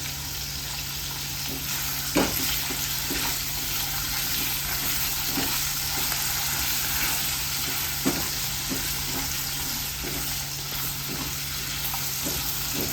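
Onions and paneer frying lightly in a pan give a steady, close sizzle with a faint watery hiss. Occasional scrapes and clinks of stirring come through, and no voice is heard.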